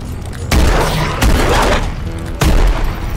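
Gunfire in Call of Duty Zombies on the Carrier map, loud close bursts of rapid shots in three clusters with booming impacts and short gaps between them.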